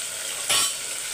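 Curry leaves and tomatoes sizzle in a hot pan while a spoon gives one quick stir, a short scraping swish over a steady frying hiss.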